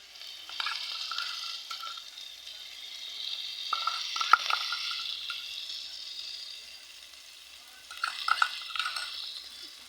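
A spice mixture is stirred in a pan for a prawn malai curry: soft frying hiss with intermittent scraping strokes, fairly faint and close, with no talking.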